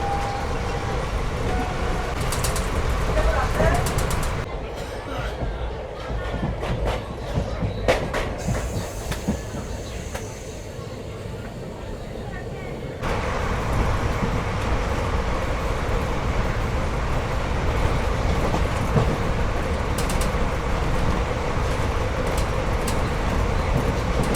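The Azimganj–Katwa passenger train rolls along on a winter morning with a continuous rumble and rattle of the carriages, steady and loud from inside the coach, dipping somewhat in the middle before swelling again.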